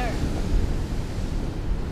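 Ocean surf at a beach in Cabo San Lucas, a continuous loud wash of breaking waves mixed with buffeting wind noise on the microphone, close and unbroken for a couple of seconds.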